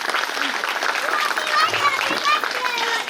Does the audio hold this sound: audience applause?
yes